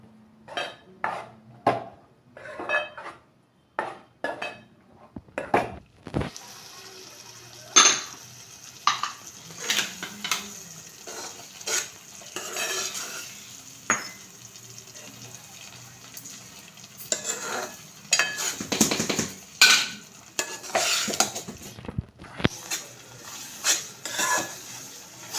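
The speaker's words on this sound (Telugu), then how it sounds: "ఇలా దగ్గర పడేదాకా కలుపుతూ ఉండాలి" A spoon scrapes and knocks against a pan as Guntur-style gongura chutney is stirred, with irregular clinks and scrapes close by, a faint sizzle underneath, and busier stirring near the end.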